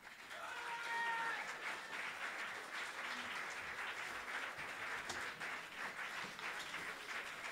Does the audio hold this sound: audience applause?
yes